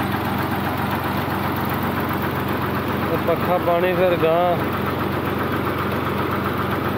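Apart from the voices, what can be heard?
Fiat 480 tractor engine idling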